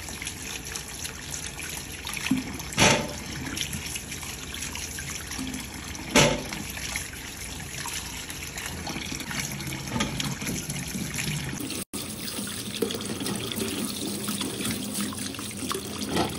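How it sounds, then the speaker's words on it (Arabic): Lemons are rinsed one at a time under a running kitchen tap, a steady close stream splashing into a sink with occasional louder splashes as each fruit is handled. "امسكي واحده واحده كده واغسليها اهو"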